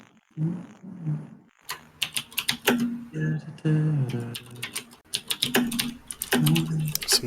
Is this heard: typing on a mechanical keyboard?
yes